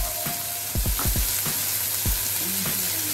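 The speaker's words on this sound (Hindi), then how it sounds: "अब हम ये टमाटर डाल देते हैं। ये टमाटर डाल के भी हमें भूनना है अच्छे से" Chopped tomatoes with green chillies sizzling in a hot pan for egg bhurji, a steady loud frying hiss with several sharp crackles and stirring scrapes throughout.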